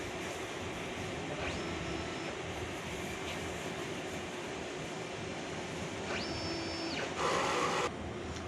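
Steady mechanical whirring from a DTF printer during head cleaning, its printhead carriage sliding back and forth, marked by rising and falling motor whines and a brief louder burst near the end.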